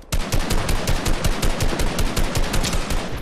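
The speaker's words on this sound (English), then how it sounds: "Are you fighting? I'm shooting them." Rapid automatic gunfire in a shooter video game, a loud, steady stream of evenly spaced shots running for several seconds without pause.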